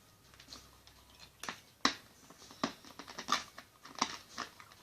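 Hard Japanese candy crunches between the teeth in a series of sharp, irregular cracks and crackles, fairly close and quiet, with no talking.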